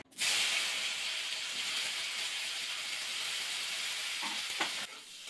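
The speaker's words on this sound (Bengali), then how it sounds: "এই তেলের মধ্যে কপিটা ভাজা করে নেব।" Cauliflower dropped into hot oil in a home kitchen pan, previously used for frying eggs, sizzles and hisses loudly and steadily for several seconds before tapering off, with a brief stir or clink near the end.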